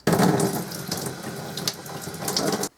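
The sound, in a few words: water running through a trombone tube into a sink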